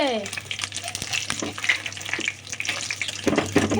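Pakoras frying in hot oil, with a busy, continuous sizzle and crackle heard up close, plus the brief scrape of stirring; someone speaks faintly in the background.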